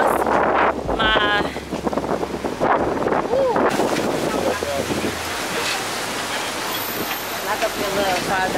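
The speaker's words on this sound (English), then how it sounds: "It's very, very windy out here" Strong wind gusts outdoors in Aruba, blowing steadily and loudly across the microphone as a dense, roaring rush for the whole stretch, with faint voices partly buried beneath it.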